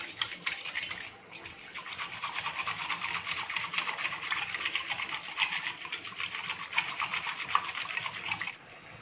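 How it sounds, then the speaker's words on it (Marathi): Buttermilk with salt and sugar is whisked hard in a bowl, giving a continuous rapid swishing, sloshing rasp that carries on close and steady for several seconds, with no speech. "आता आपले ताक असं फेटून तयार आहे"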